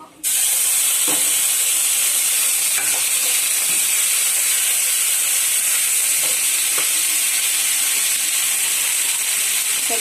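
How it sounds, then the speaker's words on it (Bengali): Chili, cumin and ginger pastes frying in a pan, a loud, continuous bright sizzle and hiss with occasional faint scrapes of stirring, no talking. "দিয়ে দিচ্ছি মশলা লঙ্কা বাটা জিরে বাটা আদা বাটা"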